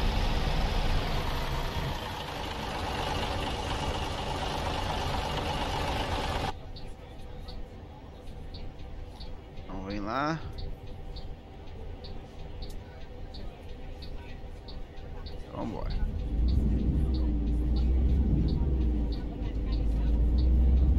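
Bus engine humming steadily in a bus simulator video game on a trip from Aracaju to Feira de Santana in Bahia, a low continuous drone with a louder stretch at the start and someone talking over it.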